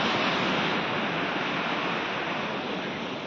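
Steady broadband wash of sea waves on a beach at Aguada, Goa, continuous and fairly loud with no distinct individual breakers, a constant surf roar with no voices.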